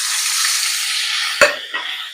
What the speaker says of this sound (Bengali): এবার ওই তেলের মধ্যে দিয়ে দেবো আমরা উচ্ছেগুলো